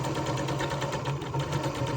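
A sewing machine hums steadily up close while stitching across the top of a fabric hat, a continuous even mechanical whir with no talking.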